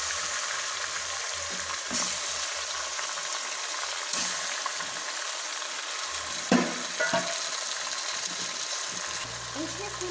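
Chicken pieces frying in a pan with ginger give off a steady broadband sizzle with occasional stirring clatters, mid-level and close, with no speech over it.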